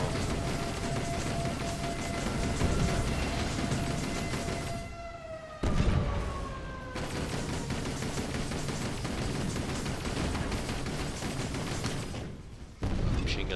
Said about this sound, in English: Machine gun's doing work.